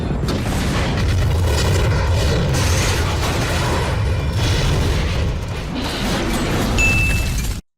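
Explosions and crashing wreckage from a car chase through a city street in a Batman film, a loud continuous barrage of booms and debris with no pauses, alone without voices.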